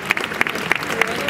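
Brief applause from the audience at a commercial fashion show in San Gregorio, with sharp claps recurring at a steady rhythm over a busy room background and a murmur of voices.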